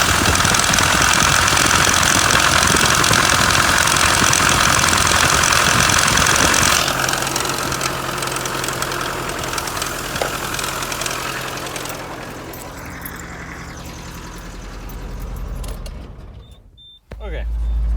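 An off-road rig's engine running loud and close, a rough steady roar that later settles to a lower idle, with a person speaking over it.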